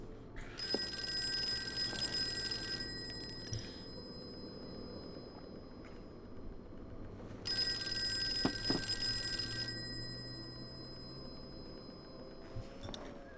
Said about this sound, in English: Oh, I don't want to answer the phone. Who answers the phone?